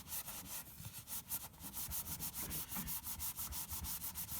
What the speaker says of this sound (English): Give it a little bit of rubbing. Remember, this has to be wet.